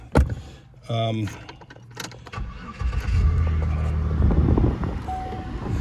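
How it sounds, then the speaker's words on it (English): Car keys jangle in brief metallic bursts close by, and then a car engine rumbles into a low, steady running sound that carries through the rest of the clip. "Just topically put, here's the keys."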